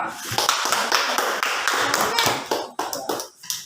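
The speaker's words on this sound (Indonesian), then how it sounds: "Ya, kita aplaus kelompok 2." Classroom applause for a student group, a dense continuous patter of many hands clapping at close range for several seconds, thinning toward the end.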